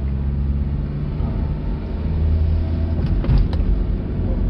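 A 2009 Hyundai Grand Starex 2.5 van pulls away under acceleration, its engine a steady low rumble with road noise inside the cabin and a brief rattle near the end.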